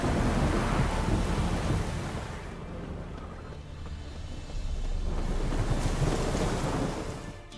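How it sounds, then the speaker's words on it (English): Stormy weather in The Witcher 3 game: a steady, loud broadband roar of wind and rumbling thunder-like noise that swells, dips in the middle, then surges again, with no voices. "A storm, damn it."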